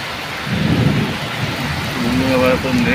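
Heavy rain pours steadily with deep rolling thunder underneath, a dense wash of sound over rain-soaked grain, faint voices in the background.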